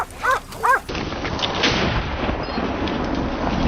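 Hunting dogs bark twice in quick succession at close range while chasing wild boar, followed by a steady rushing, noisy outdoor background.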